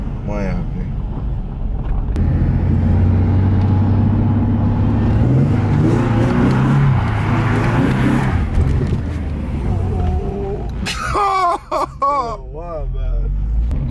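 A Nissan 370Z with a failing clutch slave cylinder revs and drops through fast gear changes, its engine note droning under someone speaking, then rising and falling in quick repeated sweeps near the end.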